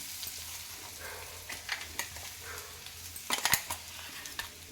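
Ground chutney hits a pan of hot tempering, giving a low, steady sizzle with scattered stirring scrapes and a few clinks of a spoon against the pan, no voices.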